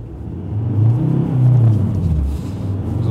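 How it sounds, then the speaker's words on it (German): Ford Ranger 3.2 Wildtrak pulling hard in first gear on an off-road course, its engine rumbling and revving upward into a strained, swelling roar, then dropping briefly before building again, loud and close from inside the cab. "ab 3000 ist der Motor wirklich sehr zäh"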